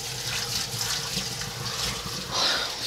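Hot water runs steadily from a tap as fish is rinsed of slime in a home kitchen sink, a continuous close splashing hiss with no talk.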